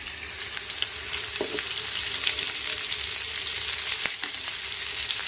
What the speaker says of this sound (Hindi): तेल हो गया है और अब हम इसमें डाल देंगे राई। अब हम इसमें डालेंगे मिर्च।